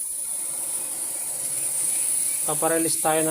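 Pressure cooker venting steam, a steady close hiss that is soon joined by a voice talking over it.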